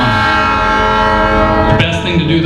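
A loud train horn sounds a long, sustained blast close by over the heavy rumble of a passing train, and the tone shifts abruptly near the end.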